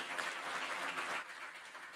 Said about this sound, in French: Je vous propose d'applaudir nos intervenants.